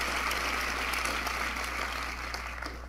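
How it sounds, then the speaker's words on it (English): A room full of Democrats applauding at a political event, steady clapping from many hands at moderate distance with a low mains hum underneath, no talking. "A room full of Democrats applauding."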